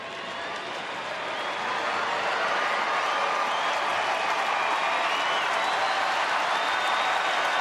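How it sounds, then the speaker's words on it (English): Baseball crowd at a Rangers home game in Texas against Cleveland builds into sustained cheering and applause, a dense, loud wash of noise that rises over the first two seconds and holds steady throughout. "The crowd getting a little noise going here as Chuck Morgan, the Rangers director of in-"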